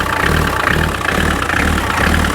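Rough idle from an old engine with one belt snapped, a close, steady low throb with a regular lumpy pulse and no talking over it.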